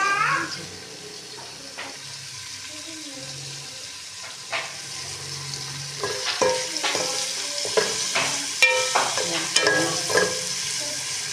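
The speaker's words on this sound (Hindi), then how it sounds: "ये भिंडी फ्राई की है।" Okra fries in a pan with a low sizzle, punctuated by scattered spoon scrapes and clinks that grow busier and louder toward the end, close up with a faint background hum.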